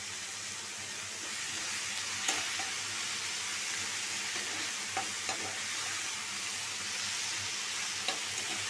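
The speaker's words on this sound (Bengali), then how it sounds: "কোনো হলুদ টলুদ কিচ্ছু দিব না, সাদা ভাজি করব" Plain fish frying in hot oil with no turmeric, a steady close sizzle and hiss throughout with a few faint clicks of a utensil, no voices.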